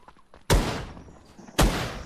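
Two sharp, loud gunshots about a second apart in a survival video game, each cracking out of near silence and trailing off in a long echoing tail.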